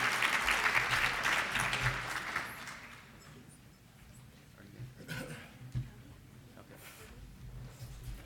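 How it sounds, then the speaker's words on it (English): An indoor audience at a conference plenary gives a closing round of applause. The dense clapping is strongest for the first few seconds, then thins out to scattered claps and faint voices. "If we could get one last round of applause before we get lunch started."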